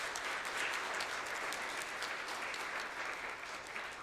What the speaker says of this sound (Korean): 격려와 박수를 같이 보내드리면 어떨까요?